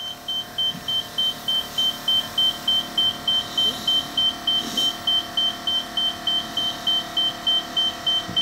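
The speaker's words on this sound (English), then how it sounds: "the compressor will turn on. The solenoid will open and she'll continue to pump until it should get to be about 24 1/4." A 1998 Lincoln Mark VII air suspension compressor pumps with a steady droning hum. A quick, regular warning beep repeats throughout, close and loud.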